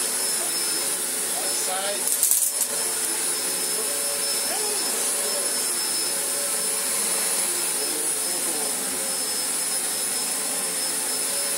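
A 1990s Panasonic upright vacuum cleaner runs with its brush on, a steady loud whining roar throughout with a brief clunk early on and a few faint spoken words beneath it.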